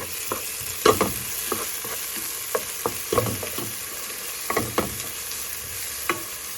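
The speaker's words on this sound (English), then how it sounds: "So now I'm going to go ahead and add a little bit of garlic." Garlic with red pepper flakes sizzles in a pan under a soft steady hiss, broken by intermittent stirring clicks and scrapes, close up with no voices.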